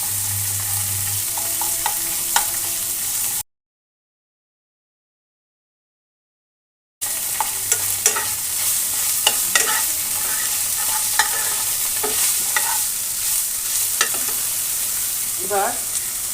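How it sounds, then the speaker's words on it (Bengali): Cumin paste and spices fry in oil in a pan for a gourd and shrimp dish, giving a continuous close sizzle with scraping stirs and small clicks. The sound breaks off into a few seconds of silence partway through. "আর একটু তেল দিয়ে দিচ্ছি বন্ধুরা, যেহেতু সবজিটা আমি দিয়ে দিব সামান্য জিরা বাটা।"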